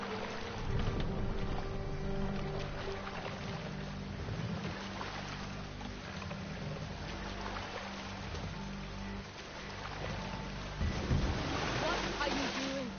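A boat pushes through sea waves with a steady wash of water churning beneath a layer of music and faint voices, continuous for the whole stretch.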